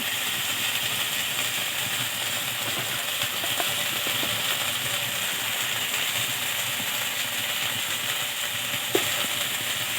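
Spices sizzle steadily in a hot pan, a continuous bright crackling hiss with occasional soft clinks of stirring.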